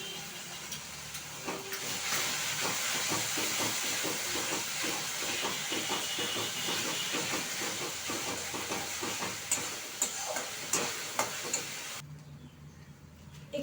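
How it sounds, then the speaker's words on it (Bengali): Onion fries with ginger, green chili and garlic paste in a pan, a soft steady sizzle broken by scraping stirs, fading quieter near the end. "এবার আমি দিয়ে দেবো এতে আদা, লঙ্কা, রসুন বাটা। এটা দিয়ে আরও আমি 4-5 মিনিট একটু"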